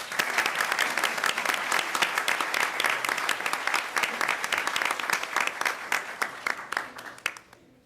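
An audience at a Stafford Schools award ceremony applauds with dense, sustained clapping that stays strong for several seconds, then thins and fades at the end.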